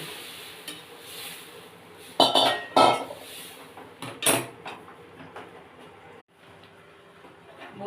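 Boiled masoor lentils go into a kadai with onion, panch phoron, dried red chilli and bay leaf for a drumstick dal, giving a few loud metallic clanks and scrapes of utensil on pan over a low background sizzle.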